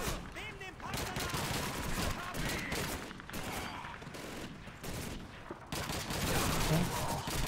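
Dense gunfire and fusillades in the Call of Duty 2 City Hall mission, bursts of rifle and machine-gun fire going on steadily throughout with shouted voices mixed in.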